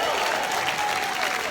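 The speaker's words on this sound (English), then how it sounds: "Can everyone give a big round of applause?" A group of entrepreneurs at a gathering in Melbourne gives a big round of applause. Close, dense clapping continues steadily and loudly through the whole short stretch.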